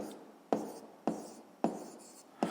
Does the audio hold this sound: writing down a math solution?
yes